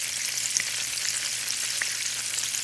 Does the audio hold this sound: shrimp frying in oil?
yes